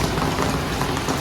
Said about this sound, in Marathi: तर पाऊस टार पिर चालू झालं.